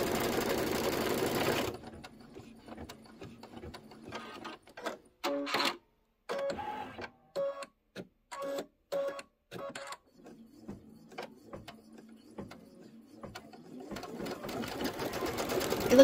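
A Kimberbell embroidery machine stitches a trapunto pineapple pouch. Rapid mechanical whirring comes in bursts separated by short pauses, with a low steady hum between runs, and someone talks faintly at the start and end.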